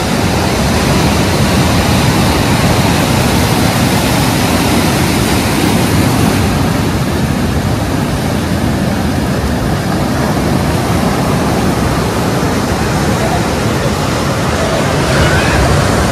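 Steady, loud roar of sea waves and surf rising close to a hotel at Mandarmani beach. The sound is a continuous broadband wash with some wind mixed in and no clear breaks between waves.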